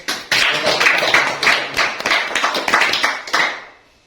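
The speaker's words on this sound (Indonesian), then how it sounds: "Jadi tepuk tangan untuk." A small audience at a business seminar gives close, crisp clapping, individual hand claps audible in an uneven patter for a few seconds before trailing off.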